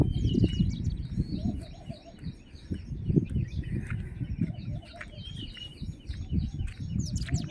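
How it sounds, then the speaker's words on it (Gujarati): A chorus of birds calling across the hills on a village morning, with chirps and tweets layered over a low rumbling background, some calls near and others farther off. "આખા ડુંગરોમાં જેટલા પક્ષીઓ રહેશે બધાનો અવાજ અલગ અલગ રીતે અહીંયા હું તમને બતાવી રહ્યો છું"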